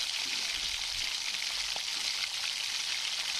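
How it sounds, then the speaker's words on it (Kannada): Onions and chillies fry in hot oil with mustard seeds in a pan, giving a steady, close, continuous sizzle throughout with no talk. "ಸ್ವಲ್ಪ ಸಾಸಿವೆ ಹಾಕಿ ಸೊ ಸಾಸಿವೆ ಸ್ವಲ್ಪ ಹೊತ್ತು ಕಾದ್ಮೇಲೆ ಸೊ ಈರುಳ್ಳಿ ಮತ್ತು ನಾವೇನು ಹೆಚ್ಕೊಂಡಿರ್ತೀವಿ ಅದನ್ನು ಹಾಕಿ ಫ್ರೈ ಮಾಡಬೇಕು."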